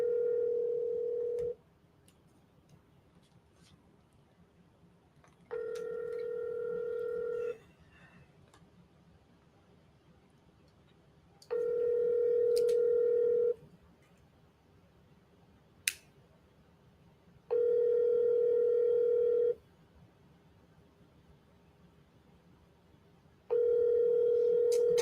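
Repeated telephone call tones from quadruple-dialed seller calls sound in five evenly spaced, steady beeps of about two seconds each, separated by quiet gaps, with one brief sharp click between them.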